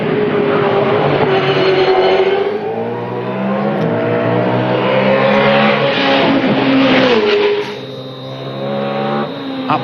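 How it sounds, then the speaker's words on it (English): V8 Supercar race car engine at speed during qualifying at Yas, a loud sustained roar that shifts pitch through gear changes and braking, dropping off briefly near the end. "Will Davison, car 22, is on the run"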